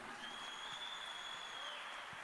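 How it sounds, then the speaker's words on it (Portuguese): Congregation at a Bible study service clapping together, a faint, steady wash of applause from a room of people, distant and even, with a thin high tone running through it. "Aplaude bem forte ao Senhor Jesus aí."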